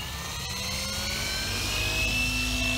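A Gaui X7 FZ RC helicopter with an 800 mm stretch setup and about 1600 RPM head speed lifts off with a loud, steady turbine-like whine, its rising rotor and motor tones sweeping upward as it climbs and flies close by.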